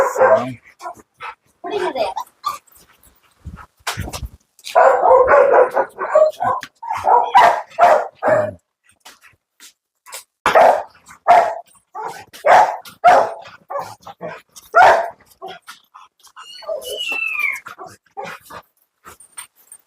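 Dogs and puppies at a kennel bark and yip in loud, close bursts, with some whimpering. Several sharp, uneven barks overlap, and people talk in the background.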